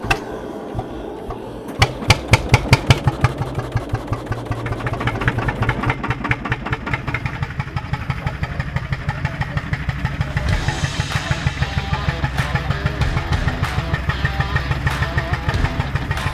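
An old diesel engine on a vintage tractor chugs to life with slow, heavy knocks, then settles into a steady, loud, rhythmic running close by.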